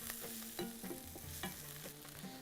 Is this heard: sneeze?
no